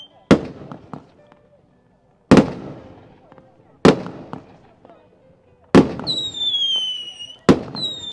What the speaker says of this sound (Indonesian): Ini petasannya tuh dari pagi bunyi terus.